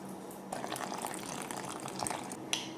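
Water and milk are poured into a bowl for historic dinner roll dough, a steady close liquid stream running for nearly three seconds with a small splash near the end.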